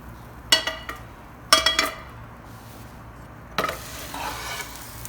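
A Spanish omelette of potato and egg (tortilla de patatas) cooks in a pan. Three bursts of metallic scraping and clinking break over a soft, steady sizzle, close by.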